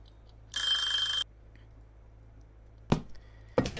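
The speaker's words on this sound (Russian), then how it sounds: "Я раньше таймер поставил же, да? То есть он начнет звенеть" Kitchen timer in the video game Cooking Simulator, a bright electronic ringing burst lasting about half a second, followed later by two sharp clatters of kitchen activity in an otherwise quiet scene.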